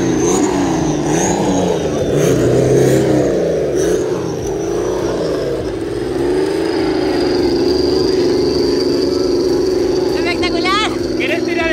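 On asphalt in Mendoza, a drift car's engine drones loud and close as it laps, revs rising and dipping in waves, with tire squeal near the end and voices talking over it throughout.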